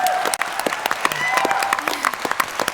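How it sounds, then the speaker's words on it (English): Audience applause at a PaleyFest LA panel for Avatar: The Last Airbender, a crowd clapping with scattered distinct hand claps and faint cheering, building after a brief dip. "you can clap for that."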